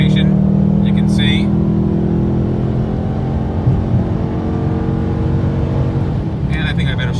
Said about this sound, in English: you step on the gas and it just sounds so sweet